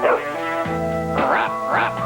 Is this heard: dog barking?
yes